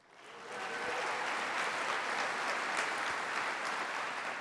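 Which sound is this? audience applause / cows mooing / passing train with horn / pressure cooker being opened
audience applause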